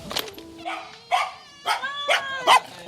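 A small dog greets visitors at the door of a home in Providence, Rhode Island, with a run of loud, sharp, high barks and yips close by, several in quick bursts.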